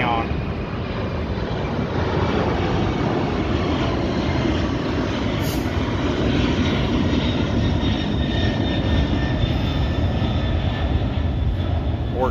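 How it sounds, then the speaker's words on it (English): A loud, steady roar of an airplane engine near an airport fills the whole clip as dense broadband rumble, with a faint voice under it. "Work right next to the airport, if you can't tell."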